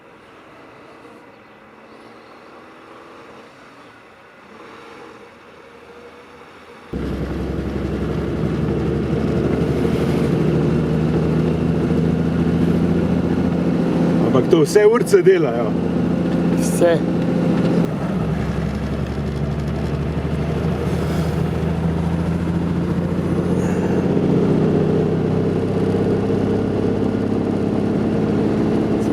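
A vintage Mercedes-Benz 200 Cabrio W21 runs on the road, quiet at first, then a sustained engine drone with wind noise and a brief burst of clatter midway; someone speaks briefly.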